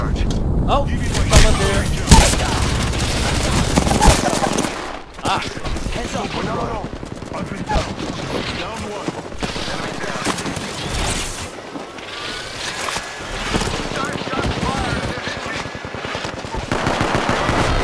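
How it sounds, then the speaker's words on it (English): Rapid automatic gunfire and single shots in the battle royale game Apex Legends crackle loudly and almost continuously, with heavy bursts early on and steady firing throughout, while players talk over the action. "Shots fired! And they're hitting me."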